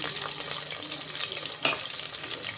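Sliced small onions, about a cup, drop into hot oil in a pan for village-style Tamil mutton kuzhambu, giving a steady broadband sizzle with a brief sharper burst partway through and no talking.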